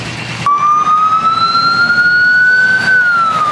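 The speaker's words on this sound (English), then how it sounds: "Fire engine going past there." A fire engine siren wails close and loud on a street in Sowerby Bridge, a single rising and slowly drifting tone held for about three seconds over traffic hum.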